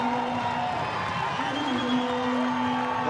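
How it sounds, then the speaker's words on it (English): A rugby stadium crowd cheering for the Fijian Drua against the Blues, a broad steady roar of voices with whoops rising in the middle, heard under a commentator talking. "a good crowd in here to support the Drua this afternoon"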